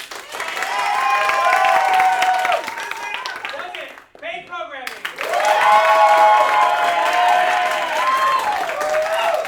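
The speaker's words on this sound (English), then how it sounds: "Applaud for both teams, but applaud more for the team that you preferred" A wrestling crowd at King of the Ring 2024 applauds and cheers for the teams, a loud, sustained roar of clapping and shouting that drops briefly midway while someone speaks, then swells back up.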